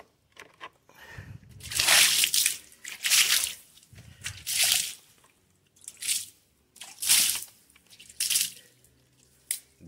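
Water thrown in repeated splashes onto a floor, about six loud sloshing dumps with dripping and squishing between them, close by and without talk.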